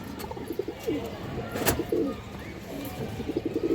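A large Army-line female pigeon coos in short repeated bursts close by, with rhythmic rolling calls and a few sharper sounds over a steady background.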